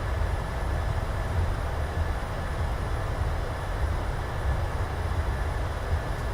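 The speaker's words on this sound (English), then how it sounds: "Reversers, nose down gently. Very respectable. Decelerating." Jet engine reverse thrust from a PMDG 737-700 landing in Microsoft Flight Simulator, a loud continuous low roar and rumble holding steady throughout.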